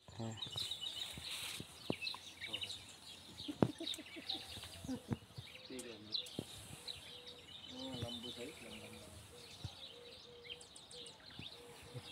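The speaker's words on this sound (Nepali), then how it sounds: "कोही चरा भँगेर जति चाहिँ भिड गर्न आएछ।" Small sparrow-like birds chirp in a busy, scattered chorus of short high notes, with faint insect-like buzzing and occasional quiet talk in the background, in a village in Spain.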